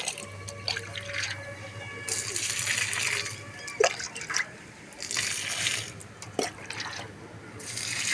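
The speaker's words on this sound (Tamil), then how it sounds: "ஒவ்வொரு செடிக்கு ரெண்டு ரெண்டு கப்பு ஊற்றுங்க" Banana-based potassium liquid fertilizer poured from a cup onto vegetable plants such as eggplant, heard as intermittent splashing and trickling pours with a few drips, close by, under light background noise.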